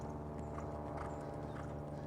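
A ridden horse's hooves clip-clop faintly during a jumping lesson, soft footfalls barely rising above a constant low hum.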